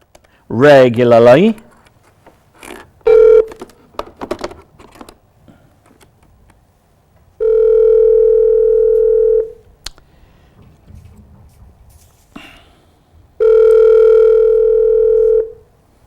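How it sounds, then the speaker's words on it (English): Two steady telephone dial tones, each lasting a couple of seconds, separated by quiet stretches with brief clicks and a short voice at the start. "Jeff, how's the dial tone?"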